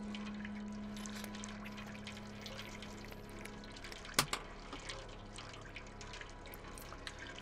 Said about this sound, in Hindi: यहाँ पे पानी है पानी पी लेते हैं